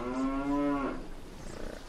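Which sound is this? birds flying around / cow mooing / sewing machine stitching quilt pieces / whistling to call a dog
cow mooing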